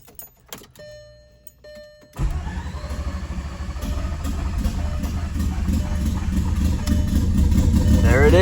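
A turbocharged 24-valve VR6 car engine cranks for about two seconds, then catches and settles into a loud, steady idle that grows slightly louder toward the end, close to the microphone.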